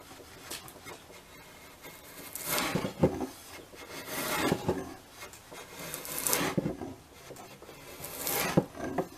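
Ohio Tool Company 3-inch socket slick with a flat back and curved edge paring wood, giving repeated scraping, rasping strokes in a steady rhythm, close and moderately loud with no talking.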